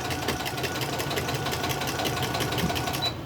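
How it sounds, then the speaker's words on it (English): A sewing machine sews down the edge of a crazy crumb quilt block, running steadily for a few seconds, its fast mechanical stitching hum loud and close with no talking. "I'm just going to sew down this edge."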